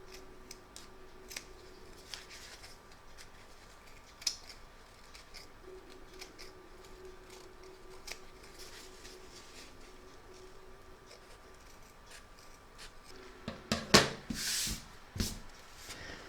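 Fabric being snipped with scissors along an appliqué stitch line for a large double-sided Santa design, a quiet run of small crisp cuts, with a louder cluster of snips near the end.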